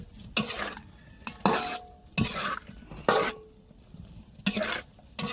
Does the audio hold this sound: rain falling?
no